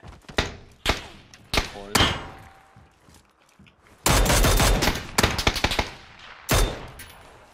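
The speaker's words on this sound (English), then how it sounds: "They shot me through a fucking tree!" Gunfire in the video game PUBG: several sharp shots ring out, then a dense, loud burst of rapid automatic fire, with a few more shots trailing after it. A voice talks over the gunfire.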